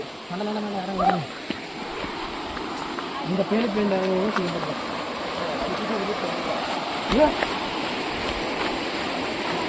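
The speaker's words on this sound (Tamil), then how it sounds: "தண்ணி இவ்வளோ ஃபோர்ஸா வருது, சவுண்டு வருது" Steady broadband rush of water, like a strong waterfall, filling the background continuously, with people talking over it in places.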